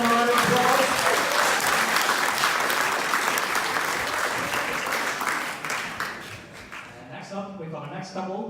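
An audience at a Strictly-style dance fundraiser for Zambia claps loudly and continuously, a thick steady applause that gradually thins and fades toward the end.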